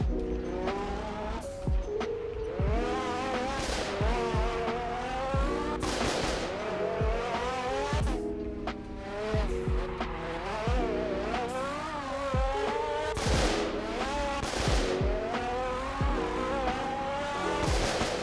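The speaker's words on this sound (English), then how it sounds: "it's a rear-wheel drive, so you kind of have to go into the corners at a slide" A McLaren race car in a Roblox driving game howls through corners at a slide, its engine loud and constant with rising and falling gear pitch and repeated sharp tire squeals throughout.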